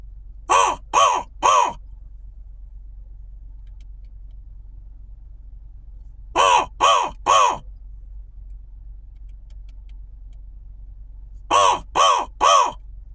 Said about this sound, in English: The crow up in this tree is sending out a call